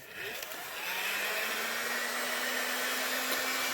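Heat gun running for bending a plastic OWB pancake holster, a steady whooshing blower hum with a faint rising motor whine, fairly quiet and continuous.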